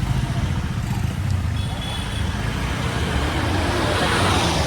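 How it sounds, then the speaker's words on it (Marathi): Heavy road traffic of cars and motorcycles in a three-kilometre jam near the Bhimashankar temple, a steady, loud blend of engines and road noise that continues without a break throughout. "आम्ही ट्रॅफिकमध्ये फसलो आहे"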